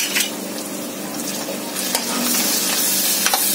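Ginger garlic paste with chili and cumin sizzles and fries in a pan with a steady crackling hiss, while a utensil stirs and scrapes nearby.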